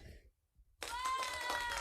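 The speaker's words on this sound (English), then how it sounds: "We'll give you a round of applause for that one." Participants on a video call burst into a round of applause after a short silence, with steady, dense clapping that stays fairly loud until the end.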